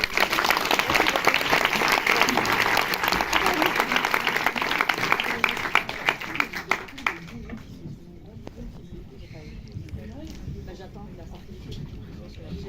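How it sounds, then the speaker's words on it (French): Audience applause after a film discussion event, dense sustained clapping that fills the first seven seconds, then thins to scattered claps and murmur as it fades out. "je vous demande d'applaudir Jérémy."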